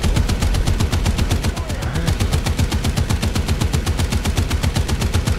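Rapid, sustained .50 caliber machine gun fire in the tank battle game War Thunder, a loud, evenly spaced stream of shots running without pause for several seconds.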